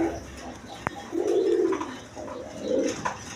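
Pair of Iranian angel pigeons, a male and female, cooing indoors in two soft rolling bursts with a brief sharp click between them, close and moderately loud.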